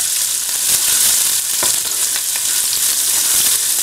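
Vegetables for ratatouille fry in a pan while being stirred constantly, a loud continuous sizzle with intermittent scraping and clicks from the utensil, no talking.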